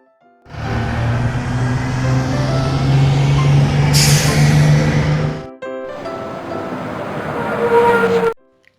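A bus engine drones loudly and steadily, with a sharp hiss of air brakes midway. It cuts off briefly, then a second rumbling run of the engine follows before stopping.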